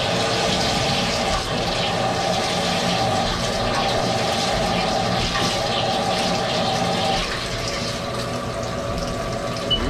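Coolant streams steadily over a machine drilling a hydraulic main pin, a continuous rushing wash with a constant hum and a faint whine beneath it, with no talking.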